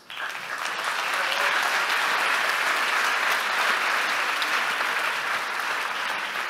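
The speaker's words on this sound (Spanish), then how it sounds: "Un fuerte aplauso." A studio audience at a technology talk show applauds a guest, a dense, steady wash of clapping that starts abruptly and holds at full strength throughout.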